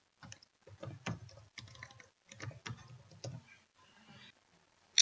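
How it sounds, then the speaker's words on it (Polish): Someone types a username on a computer keyboard with quick, light key clicks in short irregular bursts and brief pauses, close and quiet, ending with a sharp click. "Tutaj wpisujemy nazwę swojego użytkownika."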